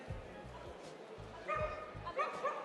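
A small dog gives several short yips and barks, with a person speaking softly in between.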